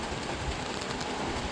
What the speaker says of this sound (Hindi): बारिश तो हो रही है झिमझिम, या तो तेज़ी हो जाए तो धीरे धीरे हो रही है